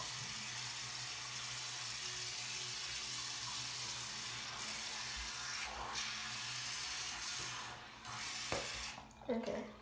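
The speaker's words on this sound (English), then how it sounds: "so now I'm going to rinse this off my hands." Tap water runs steadily into a sink while hands are rinsed, a quiet continuous splashing hiss with a few brief clatters and handling noises near the end.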